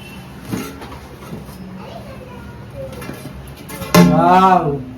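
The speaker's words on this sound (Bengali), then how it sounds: "এখন আমি ঢাকনাটা খুলে নেব দেখি কিরকম হয়েছে" A metal lid comes off a biryani pot with a sharp clank and ringing scrape near the end, after quieter kitchen clatter and someone speaking.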